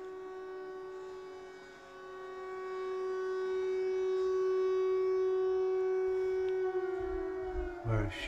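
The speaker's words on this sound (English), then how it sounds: "The sirens are going off again, I think." Air raid sirens wailing across a town in Ukraine, a steady sustained harmonic tone holding for several seconds, dipping slightly then rising again, with some low rumble near the end.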